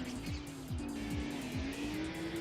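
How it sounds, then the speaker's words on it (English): Racing car in a futuristic video game grinding along the track wall, a steady engine whine with repeated scraping squeals pulsing roughly twice a second, loud and close. "Whoa, doing a little car grinding there."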